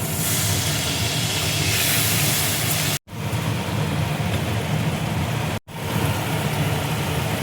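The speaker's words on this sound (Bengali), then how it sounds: "এবার দেখো অল্প করে আমি জল দিচ্ছি" A splash of water hits a hot pan while making egg chilli, setting off a loud, steady steam hiss that is broken twice by brief cuts in the sound.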